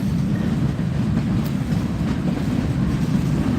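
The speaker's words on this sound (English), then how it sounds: "Yeah, that's a car carrier for sure" Freight train hauling auto-carrier cars past a cyclist in New Orleans, a continuous close, loud low rumble of rolling wagons with faint rhythmic clatter from the rails and no voices.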